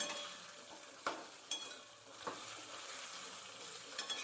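Eggplant pieces sautéed and stirred in a pan: a soft steady sizzle with a few sharp spoon scrapes and clinks against the pan, close and fairly quiet.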